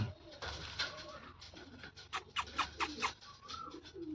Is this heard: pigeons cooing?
yes